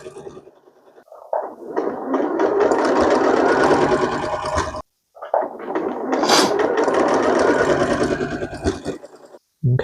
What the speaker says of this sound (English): The straight line sewing.